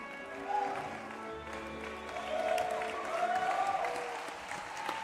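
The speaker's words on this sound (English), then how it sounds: "one big round of applause for our graduates" A crowd applauds graduates at a music college commencement ceremony, with steady, sustained clapping over sustained musical tones.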